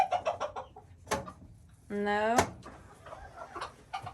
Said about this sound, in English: Might be some screaming hens in the nest box.